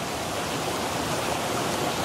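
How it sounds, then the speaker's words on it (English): A river flowing past a riverbank wild campsite gives a steady, broadband rush of water, close and constant throughout with no voices. "I can hear the water flowing"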